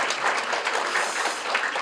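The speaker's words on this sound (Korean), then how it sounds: "박수 보내주시면 감사하겠습니다" Audience applause at a rare disease awareness day commemoration ceremony, a dense, even patter of many hands clapping at moderate volume, steady for the whole short stretch.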